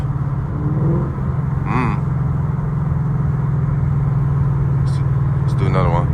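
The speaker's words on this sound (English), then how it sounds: "Let's hear a downshift." Steady engine hum inside a Ford S550 Mustang GT with a new engine, rising and falling in pitch as the gears shift down, with brief voices chiming in over the drone.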